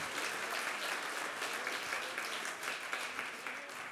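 Audience applause at a table tennis match, a dense, steady clapping from a crowd lasting several seconds with no voices over it.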